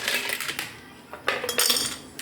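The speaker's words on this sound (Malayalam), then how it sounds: "നമുക്ക് നമ്മുടെ ഗ്ലാസുകളിലേക്ക് കുറച്ച് ഐസ് ക്യൂബ്സ് ഇട്ട് കൊടുക്കാം." Ice cubes dropped into drinking glasses while making lemon juice, giving several bright clinks and clatters in quick succession, close and fairly quiet, with no talking.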